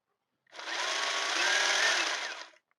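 A Ryobi P2502VNM cordless battery chainsaw with a 4 Ah battery spins up and runs for about two seconds, a steady whirring whine close by, then cuts off.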